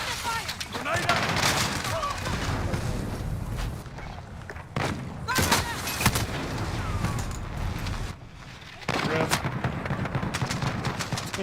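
Video-game combat with rapid gunfire bursts and thumping blasts, including a grenade explosion, rolls on loudly with brief lulls, while voice chatter runs through the mix.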